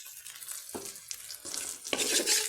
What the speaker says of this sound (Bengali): এবার আমি এটা ভেজে নিচ্ছি